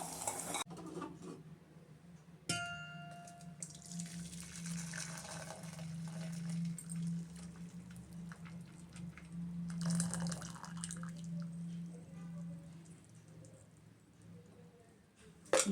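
Melted jaggery syrup is poured through a strainer after the stove is turned off, a steady trickling and dripping of liquid with a low hum beneath, continuous and close for the whole stretch.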